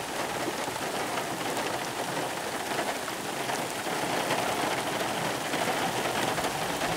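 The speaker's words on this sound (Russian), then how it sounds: "Дождик пошел." Steady rain patters on a surface nearby, a dense even hiss of drops that continues throughout.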